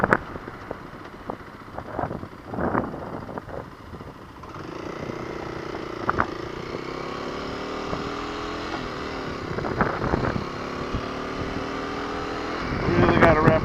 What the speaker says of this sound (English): Really gotta wrap this motor out though to get it up into high gear